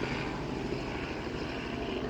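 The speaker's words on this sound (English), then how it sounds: "There goes a helicopter anyway. We'll wait for him to pass over." A helicopter flying overhead outdoors, a steady, loud, broadband engine and rotor roar that stays constant for the whole short stretch with no talking.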